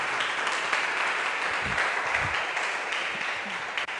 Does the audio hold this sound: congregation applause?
yes